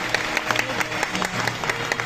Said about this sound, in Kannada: ಒಂದು ಜೋರಾದ ಚಪ್ಪಾಳೆಯ ಮೂಲಕ